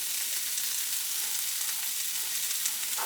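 Romanesco pieces hit a hot pan for curry, giving a steady, even sizzle of frying that holds at a constant level throughout, with no voices.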